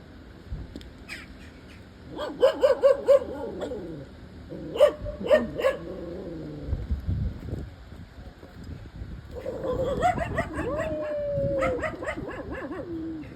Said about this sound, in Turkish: Köpek dibine kadar geliyor. Havlıyor.